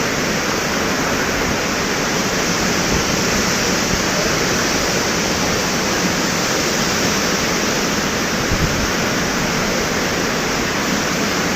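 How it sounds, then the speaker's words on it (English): Thomson Falls, the 74 m waterfall at Nyahururu, Kenya, roars steadily from its base, a dense, unbroken wash of rushing water that stays loud and even throughout with no voices. "I am today at the base of the Thomson Falls."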